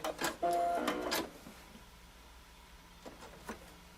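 Home sewing machine stitching fabric for machine applique, a few short mechanical whirring bursts near the start followed by quiet with faint clicks, soft and close.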